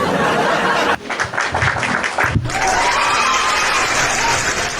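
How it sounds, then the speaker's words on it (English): A man claps for himself in a short run of quick handclaps during a casual conversation, with light chatter and laughter around it. "Let me clap for myself."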